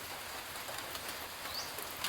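Steady rain falling outdoors in a rural area, a soft continuous hiss of drops with a faint bird call partway through, quiet and without speech.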